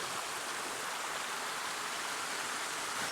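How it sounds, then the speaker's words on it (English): A waterfall roars as a steady, dense broadband rush of falling water, loud and close, continuous with no breaks and no voices. "Made it to the waterfall."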